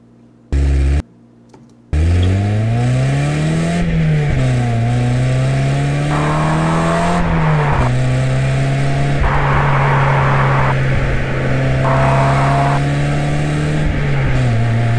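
A car engine revs repeatedly through its exhaust, loud and close, rising and falling in pitch over a steady idle, with no voices.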